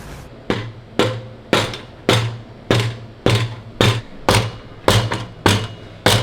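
An Urutu X-pipe exhaust part for a Maserati being tapped into place, about ten evenly spaced hollow metallic thuds roughly half a second apart, close and fairly loud, with no talking.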